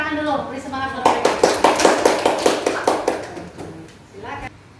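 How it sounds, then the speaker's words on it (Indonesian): A classroom claps for a group before its presentation, a steady run of about a dozen rhythmic hand claps, near and fairly loud, with a voice talking just before and after. "Tepuk tangan dulu, beri semangat buat mereka."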